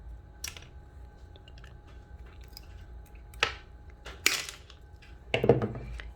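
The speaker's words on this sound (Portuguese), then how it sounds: "Vamos pegar um alicate com a parte do corte. Nós vamos vir aqui, ó, e vamos cortar." Pliers snipping through EVA foam, giving a few scattered, soft crunchy clicks and squishy snaps at irregular intervals, close up against a quiet room background with no talking.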